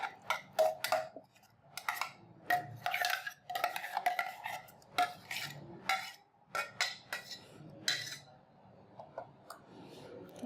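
A mango mixture for green mango panna is strained through a metal sieve into a bowl, with irregular clinks, taps and scraping of utensil against metal repeating close by throughout.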